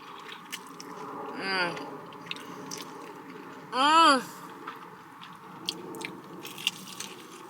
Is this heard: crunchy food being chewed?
yes